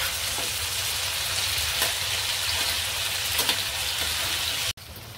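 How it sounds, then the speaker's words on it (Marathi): Prawns shallow frying in a pan give a steady, loud sizzle throughout, with faint crackles popping through the hiss, and a brief cut near the end. "आता आपण कोळंबी ना पलटे करून घेऊया सगळी, म्हणजे दोन्ही बाजूने आपण शालो फ्राय करून घेतो छान"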